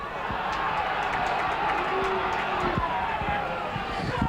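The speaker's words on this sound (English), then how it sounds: "Crowd not too happy about that tackle" Rugby league crowd at a Workington Town v Salford Championship match reacting to a tackle, a steady dense roar of many voices with murmurs and shouts, close and continuous throughout.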